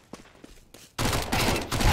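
Gunfire in Counter-Strike 2, starting quietly with a few faint shots and then breaking into dense, loud rapid bursts like an automatic rifle spraying, with no speech.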